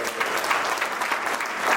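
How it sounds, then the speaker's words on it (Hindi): A crowd at an award and oath ceremony claps loudly and continuously in a dense, steady burst of applause, with a faint voice underneath. "जोरदार एक तालियां हो जाए"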